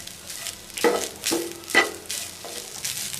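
Coconut rice being stirred in a hot pan on the stove, with a few soft scrapes and stirs spaced over a few seconds above a faint sizzle, close by and with no talking.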